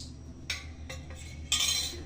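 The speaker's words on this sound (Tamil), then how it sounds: "நம்ம பவுட்ரு பண்ணி வச்சுருக்கிற பதாம் பிஸ்தா கேஷ்யூ பவுடர் இதில் மிக்ஸ் பண்ணிப்போம்" Almond, pistachio and cashew powder mixed into a malai kulfi mixture, a few quiet spoon scrapes and clinks against a bowl, close and brief.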